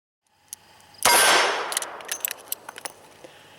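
A revolver speed loader dropping rounds into the cylinder, one sharp metallic clang followed by a run of lighter clicks and rattles, close and with no voices.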